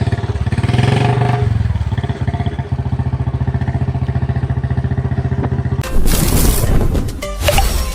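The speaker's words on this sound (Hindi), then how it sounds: "तो चलो आज बुलेट चलाएंगे।" A Royal Enfield Bullet motorcycle engine thumps at idle with a loud, close, steady single-cylinder beat for several seconds, then gives way to a burst of broadband noise and clatter near the end.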